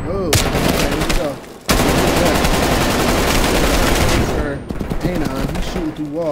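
Video game shooter match gunfire, loud rapid automatic bursts firing almost continuously, a short gap, then more shots, with a voice talking over the action.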